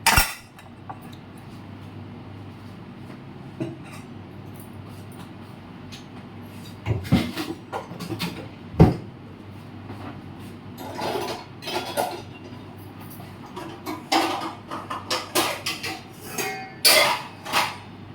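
Dishes, pots and cutlery being washed in a home kitchen, with scattered clinks and clatters of utensils and pans knocking together, moderately close, in irregular bursts over a low steady background.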